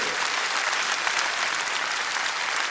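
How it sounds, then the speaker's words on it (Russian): Packed-hall audience applause at a Kremlin concert marking 20 years of Ingushetia: dense, even, sustained clapping with no pauses, fairly close and uninterrupted by speech. "Ваши аплодисменты. Аплодисменты!"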